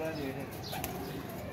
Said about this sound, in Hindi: ले जी वीवर जी कबूतर देख